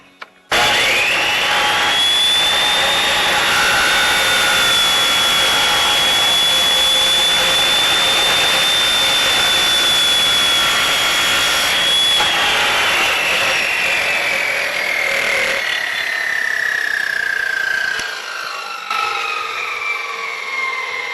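A power saw screams at high pitch as it makes a cutoff through stock, one steady loud cut lasting most of the time before the motor winds down and the whine fades near the end.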